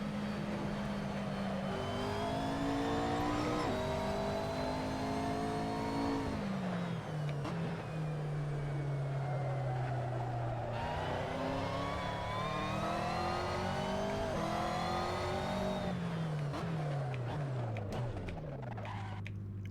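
A race car engine in a racing video game pulls out of the pit lane, holding steady pitch then climbing through repeated up-shifts and revs, loud and continuous throughout.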